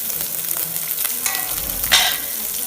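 Onions, dried red chillies and spices sizzle and fry in a hot pan, a steady crackle with a brief louder hiss as ingredients are stirred.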